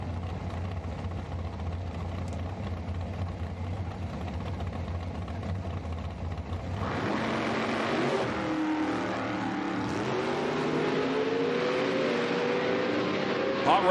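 A nitro Pro Mod or Top Fuel drag car launches down the strip at an outlaw drag race, its engine roar rising sharply from a distant rumble into a loud, sustained blast that carries on to the end.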